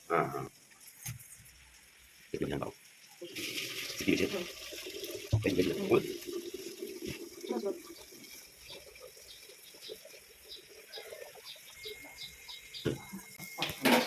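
Water drained off freshly cooked rice in a home kitchen comes as a rushing, splashing flow with intermittent gushes over several seconds, while people talk nearby.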